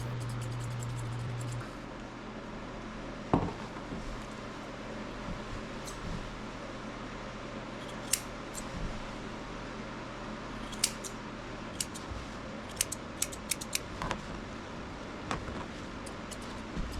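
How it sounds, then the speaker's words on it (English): Curved scissors trimming a Poodle-Bichon's coat make faint, scattered snips, some in quick clusters, over a low steady hum in a quiet room. "My favorite tool, I think, are these curved scissors."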